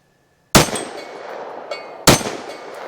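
Two sharp, loud gunshots ring out from a Smith & Wesson M&P .22 Magnum pistol at an outdoor range, spaced about a second and a half apart, each followed by a brief decaying echo.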